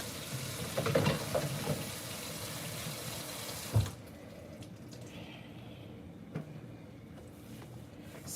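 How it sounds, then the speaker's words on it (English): Tap water runs into a kitchen sink during dishwashing, a steady splashing stream for about four seconds that then stops, followed by quieter clinks and small handling sounds of dishes. "I'm gonna wash these few little dishes and wipe up a little bit"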